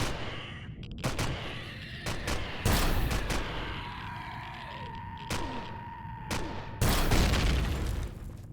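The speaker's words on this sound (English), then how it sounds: "I'm hearing another turret fire as well" Turret gunfire from the Empyrion Galactic Survival game, abandoned depot lower levels: sharp booming shots in irregular bursts, some single and some doubled, ringing over a low sci-fi hum with a steady tone.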